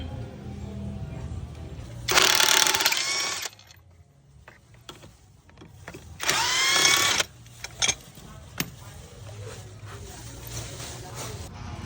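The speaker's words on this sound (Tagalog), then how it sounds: "Sabay gumamit lang ako ng size 24 na socket para matanggal yung swing arm na yan." Ratchet wrench with a size 24 socket working loose the swing arm bolt on a Honda Click 125 scooter, two bursts of fast close clicking separated by quieter handling noises and a few sharp knocks.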